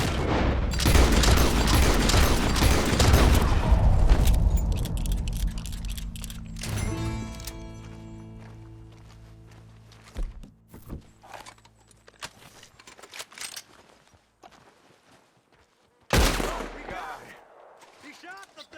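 Gunfire in Red Dead Redemption 2 during an animal encounter, with a dense burst of loud shots early, then scattered sharp cracks and a final loud blast near the end, mixed with game sounds and voices.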